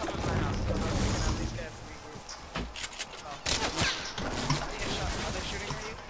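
Rapid bursts of gunfire from a shooter video game, loud and dense, with automatic fire and sharp shots clustered near the middle, with a player talking over it.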